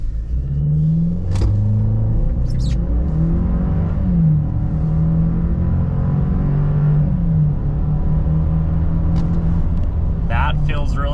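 A 2023 Chevy Silverado turbo pickup pulls hard from a standstill to 60 mph, its engine note climbing in steady steps through the gears as a cabin hum rumbles underneath, with brief clicks near the start and end.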